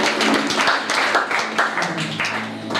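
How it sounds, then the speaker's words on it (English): A church congregation claps for the worship team, a dense burst of many hands at close range with voices mixed in. "So just clap hands for the worship team."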